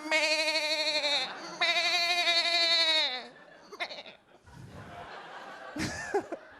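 A comedian vocally imitates a sheep bleating, two long wavering "meh" bleats in a row, loud and close, followed by a few short noises, a cough and scattered audience laughter on a comedy club stage.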